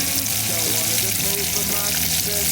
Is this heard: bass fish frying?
yes